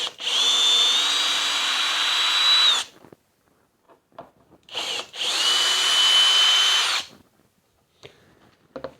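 A Kobalt 24V driver/drill drives screws at a high torque setting in two long, loud, high-pitched motor runs close by, separated by quiet handling clicks and short blips.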